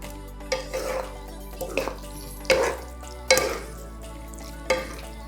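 Imitation crab claw meat tipped into a pan for creamy crab fat (aligue) pasta, then stirred, giving several separate scraping, clattering stirs with a light sizzle underneath, close and fairly loud.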